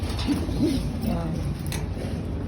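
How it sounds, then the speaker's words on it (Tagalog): Pigeons bathing nearby give a few soft, low coos over steady background noise, with faint voices in the surroundings. "Yan sila mga kalapatids, ligo-ligo."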